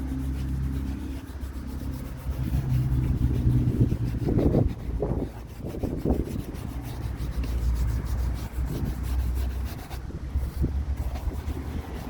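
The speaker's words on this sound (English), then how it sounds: "going to spray some on here and work it in with a soft brush" A soft brush works Autoglym interior shampoo into a car door card, making a close, steady rubbing with rhythmic back-and-forth strokes throughout over a low background rumble, with no talking.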